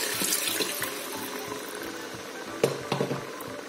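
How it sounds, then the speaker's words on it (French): Water pours steadily into a cooking pot on a hot plate over simmering condiments for a peanut and spinach sauce, a continuous close splashing stream with a couple of louder clunks near the end. "Je vais mettre 500 ml d'eau."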